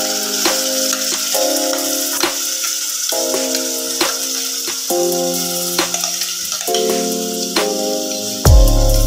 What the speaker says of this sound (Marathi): नंतर थोडासा मसाला भाजून घ्यायचा तेलामध्ये